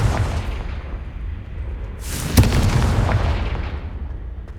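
A Confringo blasting spell explodes in Hogwarts Legacy: a low rumbling game ambience breaks into one sharp, bright burst with a booming crack near the middle, then a lingering roar that slowly fades, with no voices.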